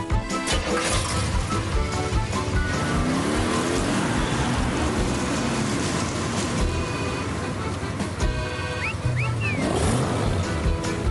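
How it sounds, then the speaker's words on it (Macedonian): A car engine runs steadily on an island, loud and close with a continuous droning rumble and a layered harmonic whine that stays even for the whole stretch, with no talking. "Го слушаш звукот на моторот, Садик?"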